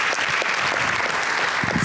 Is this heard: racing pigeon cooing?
no